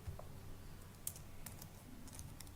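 Quiet, rapid keystrokes on a computer keyboard as an IP address is entered, a brief burst of soft clicks close by over faint background hiss.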